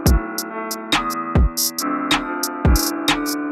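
A full UK drill beat in the Bandokay style plays, with deep sliding 808 kicks, sharp snares and skittering hi-hats locked into a bouncy, syncopated pattern over sustained melodic tones, loud and close with no voices.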